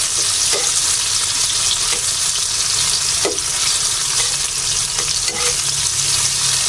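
Garlic and ginger sauté in a hot pan for octopus adobo, a steady loud sizzle with a few soft scrapes and clacks of the spoon as it is stirred.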